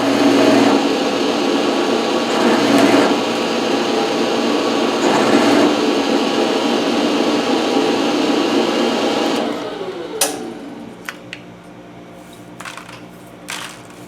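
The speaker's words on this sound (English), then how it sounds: "I'm milling another one" A milling machine cuts a slide for a shop-built wood lathe, a steady loud motor whine with cutting chatter running continuously, then spinning down and leaving a few sharp clanks and clicks.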